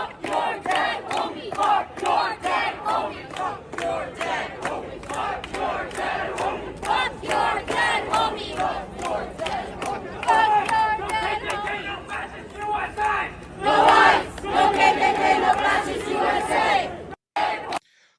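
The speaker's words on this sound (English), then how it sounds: "Listen to what these lefties are cheering." Protest crowd at Cal Berkeley chanting in unison, rhythmic shouted chants with claps beating steadily beneath, loud and close, with crowd shouting rising and overlapping near the end.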